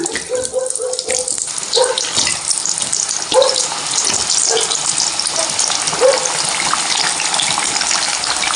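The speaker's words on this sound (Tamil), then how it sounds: "பாருங்கள் எப்படி சவுண்டு கேட்குதுன்னு இப்போ மீதம் இருக்கிறதும் நம்ம வந்து எண்ணெயில் போட்டு பொறிச்சு எடுத்துக்கலாம்" Slices of nendran banana fry in oil for Kerala-style chips, giving a continuous bubbling sizzle up close with a few louder spatters over it and brief soft talk near the start.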